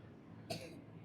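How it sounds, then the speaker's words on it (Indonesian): A single short cough, close and fairly loud, rising briefly out of quiet room noise. "Oh batuk kan?"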